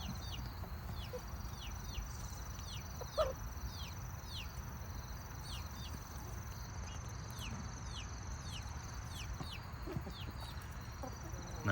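Chickens cluck and chirp steadily while pecking at salt and vinegar pork rinds, the calls fairly faint over a constant low rumble, with one brief knock partway through.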